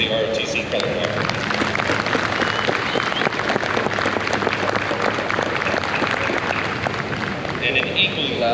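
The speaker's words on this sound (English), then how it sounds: "let's give a loud and thunderous applause so they can hear it to the Kennesaw State University ROTC color guard" Loud, sustained crowd applause fills a ceremony hall for the Kennesaw State University ROTC color guard at a GVDA observance, dense clapping continuing steadily throughout with a few voices mixed in.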